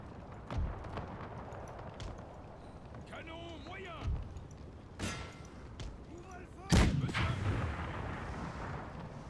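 Cannon volleys from Napoleonic-era artillery in a strategy battle game, several sharp booms at irregular intervals with a heavier blast near the end, under continuous battlefield ambience and someone talking over it.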